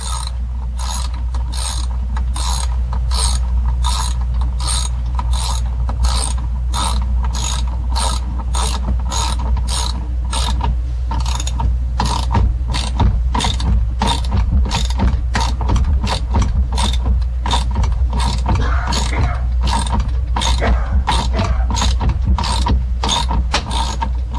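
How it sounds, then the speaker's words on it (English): A socket ratchet turned backwards while the socket is held tight, its pawl giving a fast, even train of loud metallic clicks close up for about twenty seconds, over a steady low drone with no talk. "Put your finger against the socket real tight so you can ratchet backwards."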